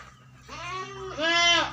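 Little goats on a goat farm bleat in two close, wavering cries, the second louder and higher, with quiet farm background between.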